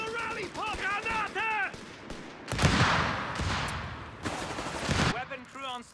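Battlefield combat in Company of Heroes 3 with grenade blasts and bursts of gunfire. Several loud explosive bursts follow shouted voices heard at the start and end.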